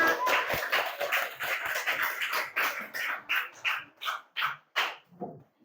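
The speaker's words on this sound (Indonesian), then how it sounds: "Tepuk tangan buat norma agama." An audience in a classroom presentation gives a round of applause, dense clapping that thins into a few slower, separate claps before fading out.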